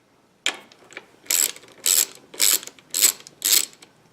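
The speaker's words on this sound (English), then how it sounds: "So we'll remove these two 10mm bolts." A ratchet loosening two 10mm bolts on an Indian motorcycle, giving six quick bursts of close, sharp clicking in a steady rhythm with short gaps between, heard alone without talking.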